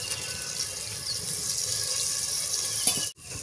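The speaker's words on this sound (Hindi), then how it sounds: "तो इसी के साथ हम डालेंगे थोड़ा सा पानी।" Water is poured into a cooking pan with red chili powder and black salt for a Rajasthani raw mango and gunda curry, a steady close splashing stream that cuts off abruptly near the end.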